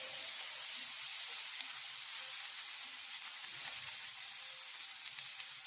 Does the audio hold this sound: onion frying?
yes